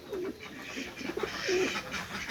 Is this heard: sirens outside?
no